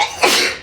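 A single sharp, close sneeze, a quick breathy burst that peaks and fades within a fraction of a second.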